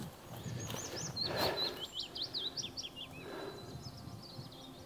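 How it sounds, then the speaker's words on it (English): A coal tit sings close by in a dawn-chorus wood, a quick series of thin, high, repeated notes over faint background rumble, with other birds calling softly in the distance. "A been joined by a coal tit, which is singing just behind us here."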